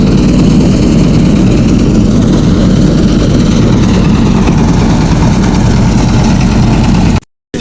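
The shallow engine of a river boat on the Kushiyara in Sylhet rumbles loudly and evenly nearby, a constant throbbing drone that cuts out abruptly near the end.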